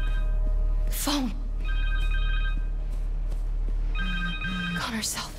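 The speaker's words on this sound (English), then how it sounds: "Phone!" A cell phone ringing in Marvel's Spider-Man 2, with a repeating electronic ring tone in two bursts separated by a pause, over a low game ambience and brief voice sounds.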